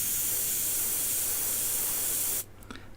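A steady, continuous hiss of an aerosol spray paint can for a couple of seconds, then it cuts off abruptly, leaving faint light handling sounds.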